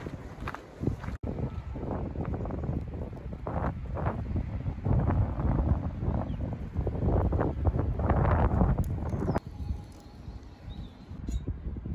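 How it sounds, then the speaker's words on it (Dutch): Strong wind buffets the microphone during a hike between Tongeren and Bilzen, a continuous loud rumbling gust with surges and brief dips. "Het waait wel stevig vandaag"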